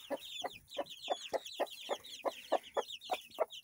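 Young chickens, a flock that may include a young rooster, give repeated short clucks in a steady, quick rhythm, about a dozen calls that sound close by and clear over faint chirping in the background.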